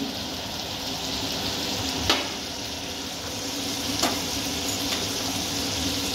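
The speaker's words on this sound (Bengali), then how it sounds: "ভাজা সবজিগুলো দিয়ে একটু নাড়াচাড়া করেই" Fried potato, eggplant and drumstick vegetables sizzle steadily in a hot pan for a catla fish curry, with two or three soft clinks of a utensil as they are stirred.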